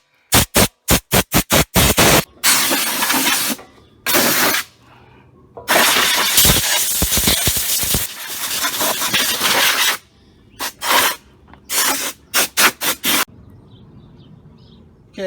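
An air compressor's nozzle blows through a Lincoln stick welder in loud, harsh bursts of hissing air, first in rapid short puffs, then in longer blasts separated by pauses, close by with no talking.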